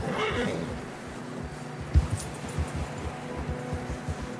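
Horses struggle through fresh snow in the video game Red Dead Redemption 2, giving strained whinnies and snorts over a dense, rumbling outdoor background.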